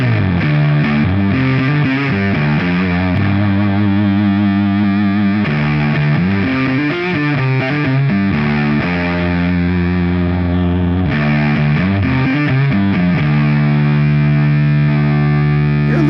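Heavily distorted guitar chords played through the clipping settings of a Vital Distortion pedal, thick and saturated, with sustained notes and shifting chord changes, no talking.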